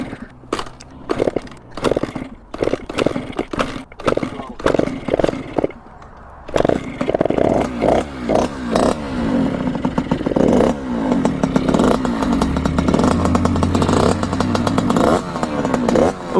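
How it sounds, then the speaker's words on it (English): Gas-powered Sur-Ron dirt motorcycle being kickstarted, several sputtering kicks and brief catches before the engine fires and settles into a loud, close, rattling idle with blips of revving. "The gas Sur-Ron is complete. We got the handbrake and the clutch on one side. Let's give it a kickstart here."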